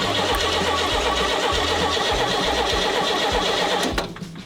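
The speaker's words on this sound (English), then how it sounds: "We're actually gonna have to get it started to even try that." A classic Chevrolet C60 farm truck engine turns over with a rhythmic cranking pulse repeating about twice a second, loud and close, then fades near the end.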